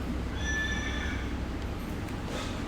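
A horse whinnies once, a thin, high, drawn-out neigh that fades after about a second, heard faintly over a constant low rumbling background with no talking.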